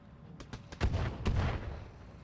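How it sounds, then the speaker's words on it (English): Mortar rounds fire in the mech strategy game Roguetech. A quick string of about five muffled thumps and bursts lands close together, the later blasts heavier and rumbling, at low overall volume. "There's the mortars."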